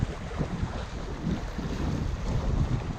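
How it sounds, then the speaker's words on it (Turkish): Strong wind buffets the microphone outdoors on the Aegean coast at Babakale, Çanakkale, a steady, close roar with gusty rumbling swells and no voices. "Yani şu an gördüğünüz bu rüzgar hiçbir şey."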